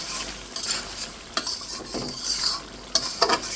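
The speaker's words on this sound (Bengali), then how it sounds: "একটু নেড়ে চেড়ে দিচ্ছি" Chicken curry with elephant foot yam stirred in a pot. A spoon gives a few sharp scrapes and clinks against the metal over a faint bubbling sizzle, close up, with no talking.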